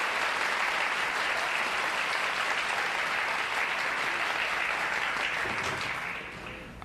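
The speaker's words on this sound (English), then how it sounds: "you can tell by the applause that it's someone that our audience is very well acquainted with" A television game-show studio audience breaks into sustained, loud applause as a mystery guest enters, a dense even wash of clapping that tapers off at the very end.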